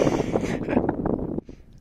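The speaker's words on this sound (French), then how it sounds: "C'est vrai qu'il y a du vent" Strong mountain wind on an alpine hiking trail buffets the microphone in dense low rumbling gusts, then drops off abruptly near the end, leaving a quieter rush.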